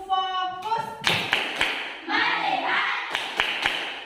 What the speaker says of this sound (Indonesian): Kita tepuk fokus dulu ya.